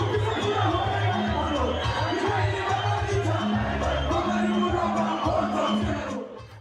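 Crowd at a nightclub music event with a live band, a loud, continuous roar of voices and cheering over a thumping low-pitched musical backing, fading out at the end.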